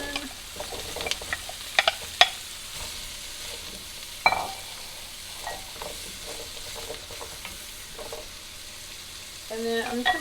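Quartered radishes sautéing in a pan, a steady sizzle punctuated by utensil clicks and scrapes, growing louder toward the end.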